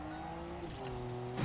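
A car in the Fortnite video game does donuts, its engine droning with a rising pitch before a sharp burst of tire squeal at the end, fairly faint and without talk.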